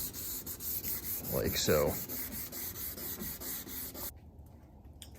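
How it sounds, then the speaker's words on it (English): Rhythmic back-and-forth rubbing of 1000 grit sandpaper across an oxidized, hazy car headlight, close and steady for about four seconds, with a brief spoken remark over it before it stops. "So we just sanded with the 1000 grit"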